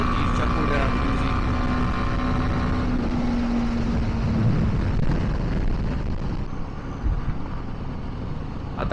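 A motorcycle cruising on a highway toward Bhimashankar at speeds above 130, its steady engine drone and wind rush continuous and loud throughout, with a tone shift as it changes pace.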